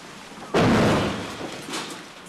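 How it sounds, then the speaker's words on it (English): Tank fire strikes a bunker at the Ukrainian front, landing as one sudden, loud, heavy blast that rolls on for a second or two, followed by a quieter secondary thud. "Tank fire hammers the bunker."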